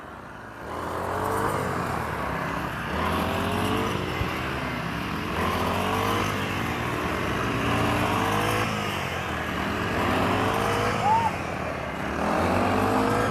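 Three petrol string trimmers cutting rice stalks in a paddy field, engines droning and revving continuously in rising and falling surges, close and loud throughout.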